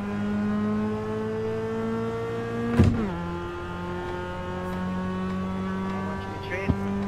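A Mazda MX-5 drifting, its engine holding a steady droning pitch that dips sharply around the midpoint, with brief tyre-scrub bursts near the middle and end; people talk over it.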